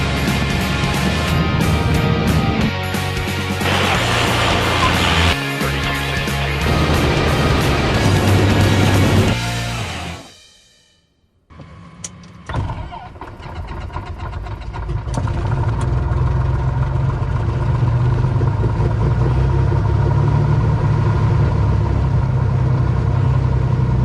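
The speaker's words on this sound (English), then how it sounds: "Today we're flying a 1983 Piper Turbo Saratoga that we have for sale." The engine of a 1983 Piper Turbo Saratoga drones steadily and close, then cuts out in a brief gap before returning as a lower, even hum with some clicks.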